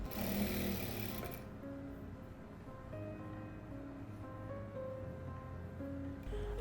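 A sewing machine stitches a fabric ribbon onto the last row of a two-colour patchwork piece, giving a steady, moderately loud mechanical whir that runs continuously without talk.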